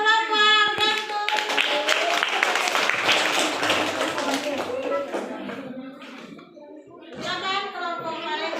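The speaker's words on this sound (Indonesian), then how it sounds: "Tepuk tangan dulu untuk kelompok Gantung." A classroom of students claps their hands for a presenting group, a dense burst of applause that fades over several seconds, with children's voices and a teacher talking around it.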